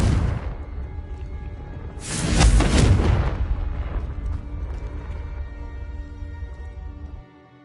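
A Confringo spell blast in Hogwarts Legacy erupts as a loud, close booming explosion that swells then rumbles and decays over several seconds, a single heavy detonation with no talk.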